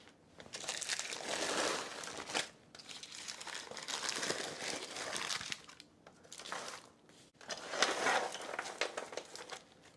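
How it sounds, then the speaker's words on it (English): A plastic freezer bag being doubled over, giving loud, close crinkling and crumpling in several long rustling bursts with brief pauses, no talk. "I like to double over my bag"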